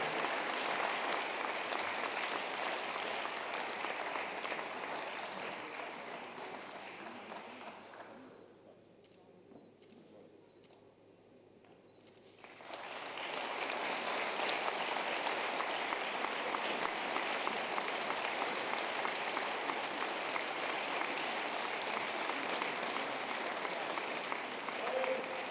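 Loud, sustained audience applause at a regional sports awards ceremony for top athletes, a dense wash of clapping that dips to a quieter lull midway before swelling back to full strength.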